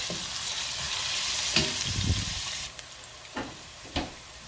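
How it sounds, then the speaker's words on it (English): Onions frying in a pan for jollof rice make a steady sizzle, broken by a few sharp clinks and scrapes of stirring toward the end, with no voices. "the onion has been cooking for over 5 minutes"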